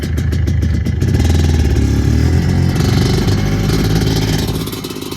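Yamaha Blaster ATV engine revs and pulls away, a loud buzzing two-stroke drone with rattling clatter at the start, then fading slightly as it drives off.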